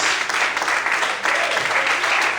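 Church congregation applauding during a sermon, a steady dense wash of many hands clapping at close-to-moderate distance, with no voices over it.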